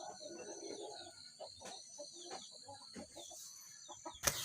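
Chickens cluck softly in the early morning, scattered and fairly distant, with one sharper, louder call near the end.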